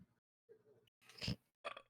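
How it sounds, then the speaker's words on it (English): A single loud, gurgling burp erupts mid-clip, close and unbroken, with short muffled vocal sounds around it from a group gathered at a table. "That was a good burp, though."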